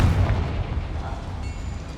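A Confringo fire spell explosion in the video game Hogwarts Legacy, a loud deep boom rolling out and slowly fading over two seconds, heard alone with no talk.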